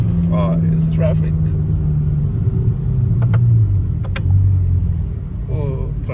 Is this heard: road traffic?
yes